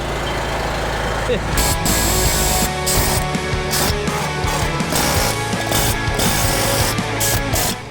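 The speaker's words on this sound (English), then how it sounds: "We're gonna try an air chisel and see if that works." An air chisel hammers on the boot of an air drill, a loud continuous rattling pound close by that runs the whole stretch among shop noise.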